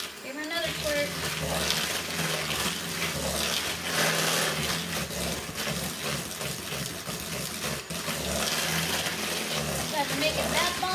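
Liquid is squirted and squished into a homemade bath bomb mixture, producing soft, continuous wet splashing that stays faint and low throughout.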